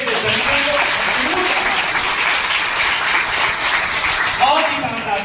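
Loud, sustained applause from a large audience at a railway workers' union address in India, a continuous roar of clapping holding steady throughout, with scattered cheers or calls rising briefly near the end.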